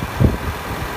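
A 2016 Range Rover Supercharged engine idles at a steady low rumble, with one brief swell near the start, then settles into an even, moderately loud drone with no talk.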